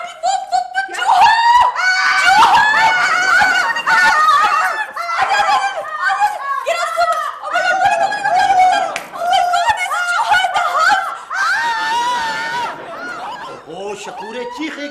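Screams from a bungalow across the street in a Pakistani comedy drama, loud continuous shrill wailing cries that rise and fall for the full length, with overlapping squealing voices and no pauses.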